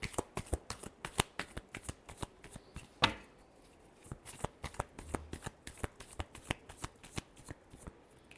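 A deck of tarot cards is shuffled by hand close up, with repeated quick riffling bursts in an irregular rhythm, a louder snap near the middle and brief pauses between runs.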